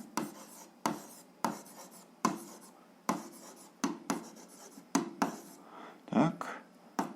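A pen writes on paper while working an algebra exercise, drawing a straight-line graph: about ten crisp, close scratching strokes in a steady rhythm, each a short burst followed by a pause.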